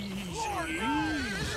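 A horse in Red Dead Redemption 2 gives a short, quiet, wavering neigh with rising and falling pitch, heard alone against faint background.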